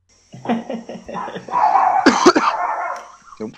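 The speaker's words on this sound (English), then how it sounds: "My dog's going mad at Summit." Dogs barking indoors as someone knocks at the door, a run of sharp barks and yips growing into a louder, busier burst, then a last short bark, heard close with no speech over it.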